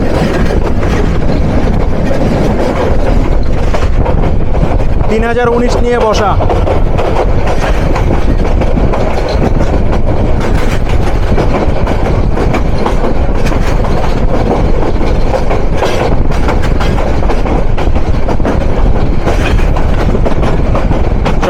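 The Parabat Express, an intercity train on the Dhaka to Sylhet line, runs with a loud, constant rumble and rattle of wheels on track, with a brief voice speaking over it early on.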